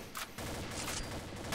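Gunfire from the online shooter Combat Arms rings out as a rapid flurry of loud, overlapping shots and bursts that carry on through the short stretch, with no talking.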